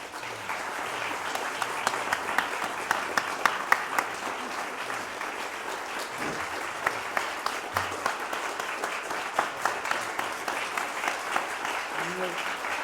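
A concert audience applauds after a Beethoven cello sonata in D major, with dense sustained clapping filling the hall throughout and a few faint voices mixed in.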